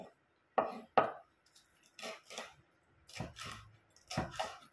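Vegetables being sliced on a board for a ground-meat giniling dish, a few sharp knife taps followed by softer irregular cuts, close by and without talk.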